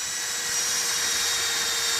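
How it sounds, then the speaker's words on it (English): A power drill bores jack holes during removal of a well casing at a sump well installation, a steady loud whirring grind that runs unbroken from start to finish with no voices. "Here we are drilling our next set of jack holes."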